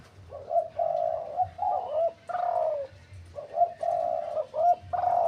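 A trained decoy spotted dove coos in repeated short phrases close by, rising and falling notes with brief pauses between calls, alone without talk.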